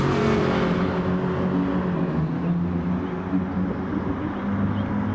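Racing cars in a racing game, a BMW and a Mazda side by side in a drag race, with steady, loud engine drone holding throughout, no gaps, and tones shifting slightly as they accelerate.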